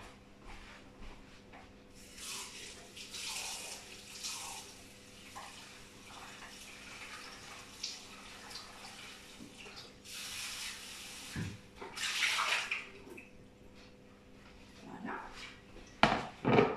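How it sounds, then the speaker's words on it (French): A ring mould is rinsed under a cold kitchen tap while preparing iced nougat: running water hisses and splashes in uneven bursts, fairly close, with no talking. "je vais ouvrir mon moule couronne, je vais le rincer sous l'eau froide"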